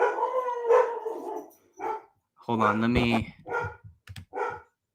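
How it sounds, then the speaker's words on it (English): A dog barks and howls several times in short bursts, fairly close, while someone talks between and over the barks. "The dog is barking."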